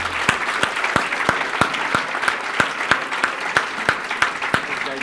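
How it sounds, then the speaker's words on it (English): Sustained crowd applause at a motivational event in Toronto, an even wash of many hands clapping with a few sharp louder claps punctuating it at regular intervals. "Everybody give Dan Holloway a big round of applause."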